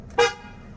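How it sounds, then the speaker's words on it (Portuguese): A single short, bright Tesla car horn toot, close and sharp, fading quickly into quiet. "A gente não testou a buzina ainda"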